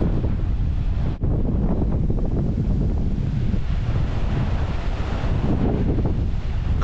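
A strong, cold wind buffets the microphone on a beach in Mariupol during a storm, its roar rolling continuously over crashing waves with no voices.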